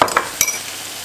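Water poured into a hot pan holding a mustard mixture for fennel, giving a sharp burst of sizzling and a few quick scraping stirs, then fading to a softer hiss.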